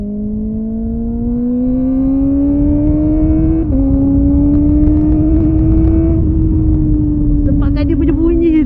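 A Kawasaki ZX25R motorcycle engine revs loud and close, its high-pitched whine climbing steadily over several seconds with a brief dip partway, then holding high as a voice briefly comes in near the end.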